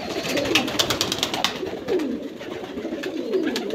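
Teddy flying pigeons coo in repeated low, rolling calls, several birds overlapping close by, with faint chirps and a busy loft hum behind.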